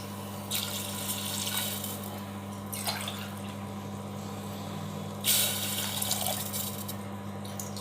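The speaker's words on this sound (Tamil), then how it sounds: "நான் வந்து ஒரு 4 கிளாஸ் தண்ணி வந்து ஆட் பண்ணுறேன்" Several glasses of water, about four, are poured into a pot of drumstick stems for soup, making three short splashing bursts over a steady low hum in the kitchen, with no speech.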